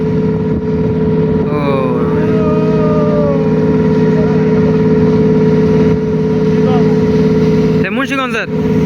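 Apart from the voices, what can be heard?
passenger launch boat approaching at speed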